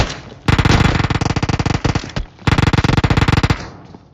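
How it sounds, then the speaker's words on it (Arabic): Rapid automatic gunfire in the battle royale game PUBG, two long, loud bursts of fast, evenly spaced shots split by a brief pause, with no voices over them. "يطلق علي ما معي سلاح."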